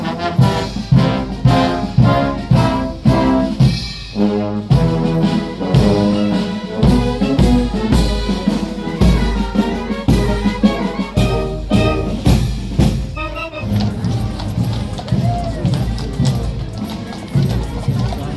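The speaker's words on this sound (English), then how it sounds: "And this is actual changing of guard ceremony." Changing of the guard ceremony at Windsor Castle, with a military band playing loud marching music over steady horse hoof clip-clop and crowd murmur throughout.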